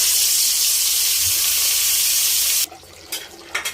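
Koi fish (climbing perch) hisses and sizzles steadily in hot oil for a few seconds, loud and close, before the frying noise drops away and a few clinks and small bumps follow.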